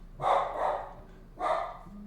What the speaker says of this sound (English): my dog's over there. He's trying to eat a squirrel.